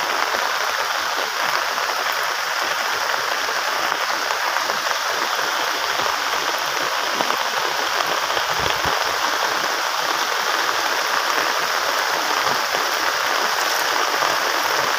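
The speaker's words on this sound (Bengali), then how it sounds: "বৃষ্টি কিন্তু কমছে না কোনোভাবে" Heavy rain pours steadily over a waterlogged area in Noakhali, a dense, continuous hiss of water that stays loud and even throughout with no voices.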